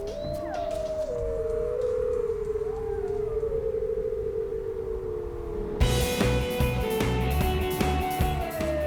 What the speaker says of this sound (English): The sound of wolves howling in chorus is truly remarkable.